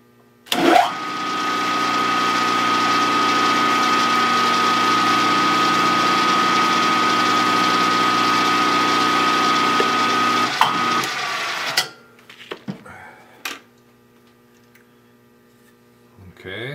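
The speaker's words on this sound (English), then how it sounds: "I think I'm going to use a small spot drill" Small lathe spinning a spot drill into a slide end plate, a steady machine hum running for about ten seconds before winding down, followed by a few light clicks and knocks.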